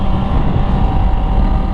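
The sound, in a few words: Honda CBR650R motorcycle engine roaring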